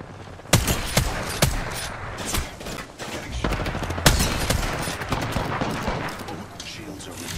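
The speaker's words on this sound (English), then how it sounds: "Where was that team shooting from?" Gunfire in the battle royale game Apex Legends: rapid bursts and sharp single shots crack throughout, several loud reports standing out over a continuous volley, with game ambience and voices underneath.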